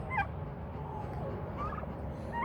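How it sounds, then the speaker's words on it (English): Turkeys kept in a muddy backyard pen, giving soft scattered clucks and chirpy calls over a low background rumble, fairly faint and close. "turkeys are pretty gross"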